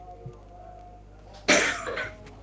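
A single sharp cough bursts out after a quiet stretch, close and loud, trailing off briefly.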